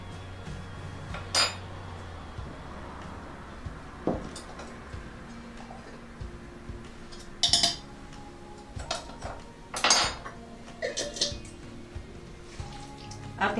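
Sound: mixing beefsteak marinade in a bowl

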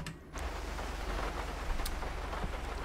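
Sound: rain in video game GTA 5

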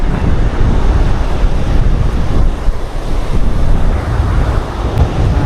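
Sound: big ocean waves

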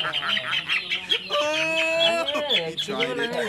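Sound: chicken clucking

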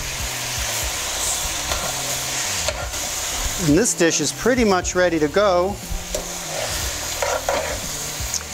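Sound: rogan josh sizzling and stirred in hot pan

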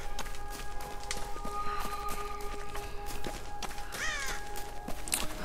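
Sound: crow cawing in video game Tomb Raider

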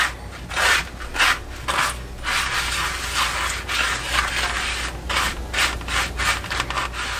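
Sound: mixing breading ingredients by hand for eggplant

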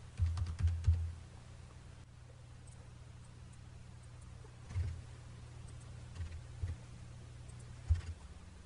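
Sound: typing on a computer keyboard

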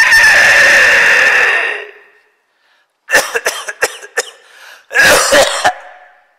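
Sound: coughing

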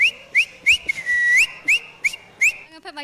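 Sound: bird whistle imitation by a performer

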